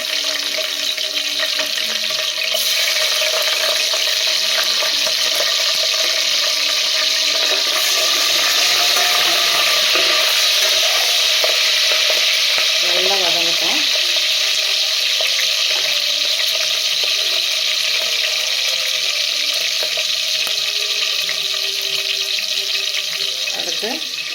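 Green chillies hit hot oil in a pan for chicken biryani, and a loud, continuous hiss of frying runs unbroken throughout, close by, with a faint hum beneath it.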